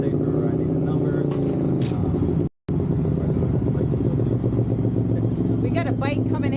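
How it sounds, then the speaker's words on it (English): A motorcycle pulls in at a Rockford Area Riders gathering, its engine a loud, steady rumble with people talking over it, broken by one brief gap. "We got a bike coming in"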